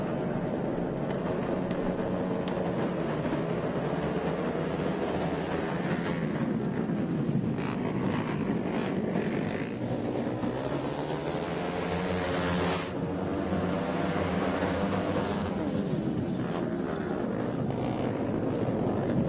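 GNC2 flat track racing motorcycles roar off the start of the main event at Daytona, a dense sustained engine drone with rising and falling pitch sweeps as the pack passes, loud and continuous throughout.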